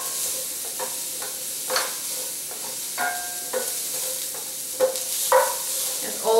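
Purple, yellow and white cauliflower is stir-fried in a pan, with a constant sizzle under repeated clattering scrapes and knocks of a utensil, close and fairly loud.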